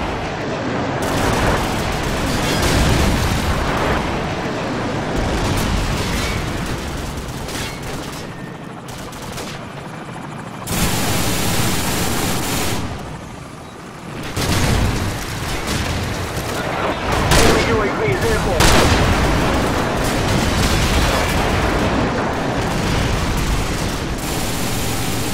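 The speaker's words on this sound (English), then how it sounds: "Friendly airstrike on the way." Video game battle noise with airstrike explosions and gunfire: dense, loud bursts of shooting and booms roll on almost without a break, with heavier blasts standing out now and then.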